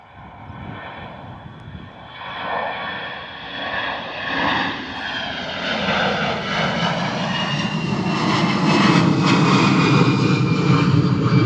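EasyJet jet airliner taking off at Bristol Airport in a strong crosswind, its engine roar building steadily from moderate to loud and sustained, with rising whine tones and no talk.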